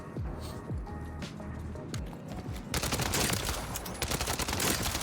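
Rapid bursts of Striker submachine gun fire in Warzone, a shooter game, with sharp repeated shots that grow louder and denser in the second half, no talking.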